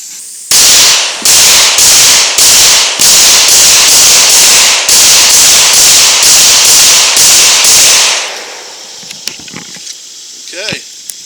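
Glock 40 MOS pistol firing 180-grain full metal jacket 10mm factory rounds, with about fifteen loud sharp shots at a steady quick rhythm, followed by quieter handling clicks and a faint voice.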